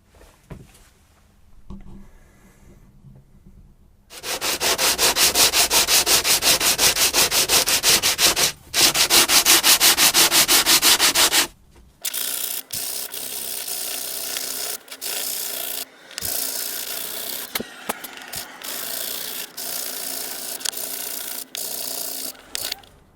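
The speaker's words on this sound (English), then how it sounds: "it's time to go in with a 12-inch sanding block now" Steady, loud abrasive rasping of a 12-inch sanding block scrubbing back and forth on a guitar fretboard, a continuous stretch then repeated strokes with brief pauses.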